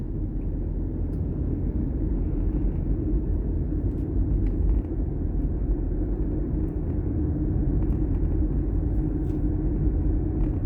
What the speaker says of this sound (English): Let the bus pass.